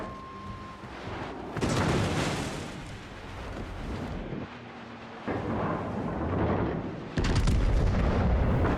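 Heavy naval gunfire and high-explosive shell hits in World of Warships, aimed at a burning Jean Bart battleship, come as loud, booming salvos: several thunderous bursts over a constant rumbling roar, with no voices.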